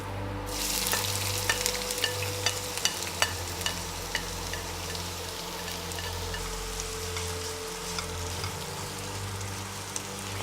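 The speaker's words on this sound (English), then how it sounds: "First, I'm gonna fry the onion, garlic, and ginger." Onion, garlic and ginger sizzle in olive oil in a pan, a dense steady frying hiss with scattered sharp spatter pops and light stirring clicks throughout, close and with no voices.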